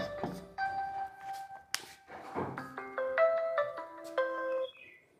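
A mobile phone ringtone plays a bright electronic melody of short stepped tones, clear and fairly close in an otherwise quiet room, with a thump near the start.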